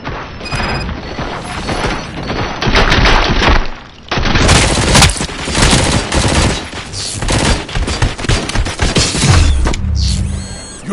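Heavy gunfire in the RoboCop video game, dense bursts of automatic shots and booms with mechanical clatter, loud and continuous apart from a brief lull, ending in a whooshing effect.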